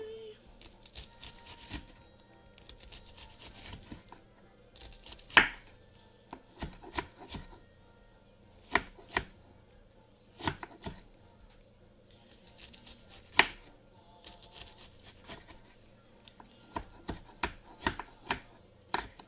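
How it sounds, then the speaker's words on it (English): Knife chopping through sliced onion on a cutting board, a quick irregular series of crisp taps with short pauses and faster bursts near the end. "You're just gonna chop it down this way."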